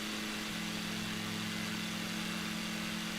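An aircraft engine in the Microsoft Flight Simulator 2020 video game, flying over Israel, drones steadily and evenly at low volume, with no voices.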